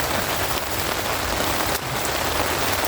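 Heavy rain drums on a hot tent while wild camping at Loch Lomond, a dense, loud, continuous hiss and patter filling the whole stretch with no talking.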